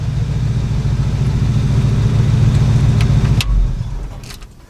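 A truck engine runs loud and steady at low pitch, pulling in one gear before a single shift, after which the drone drops away and fades.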